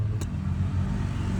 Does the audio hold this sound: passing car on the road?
yes